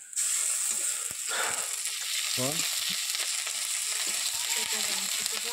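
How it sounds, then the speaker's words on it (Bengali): Onions and spices fry in a pan, a loud continuous sizzle with occasional stirring scrapes and clinks, and a brief voice sound partway through. "প্রথমে পেঁয়াজ দিয়ে দিয়েছি, কিন্তু দেখুন সব রান্না, সব মশলাপাতি দিয়ে দিচ্ছে, রান্না করছে আমার মেয়ে।"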